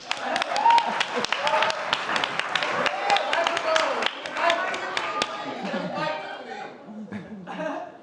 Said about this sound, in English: Y'all can clap for Tiffany